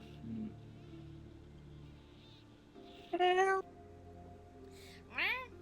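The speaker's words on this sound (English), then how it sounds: "I'm putting that cat out for tonight." A cat meows twice, one short mid-clip call and a rising meow near the end, heard close over a quiet room with faint background sound.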